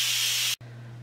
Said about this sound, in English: Nothing else is coming out except steam.